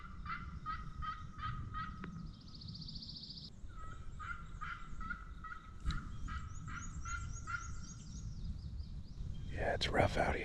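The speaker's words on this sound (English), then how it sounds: "Hard to get a gobble." Wild turkey calling outdoors during a spring hunt, with a series of repeated rhythmic bird calls, moderately distant, over steady wind and ground noise, and some rustling near the end.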